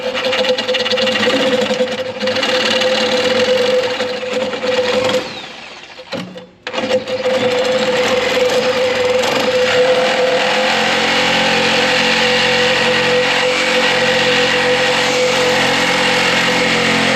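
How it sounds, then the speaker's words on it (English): A Sawzall reciprocating saw cutting along an old weld on a rusty tractor cab, a loud continuous buzzing drone with a steady pitch, briefly dipping and stopping once before running on steadily and close. "I'm gonna cut along the old weld with a Sawzall, and we'll get that thing yanked off"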